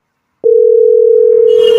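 Steady telephone dial tone begins abruptly after a short silence and holds loud and unbroken while a call is being placed, with faint background noise creeping in near the end.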